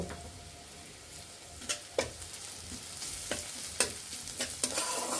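Black cumin seeds frying in hot oil with a constant soft sizzle, broken by several sharp taps and scrapes of a spoon stirring in the pan.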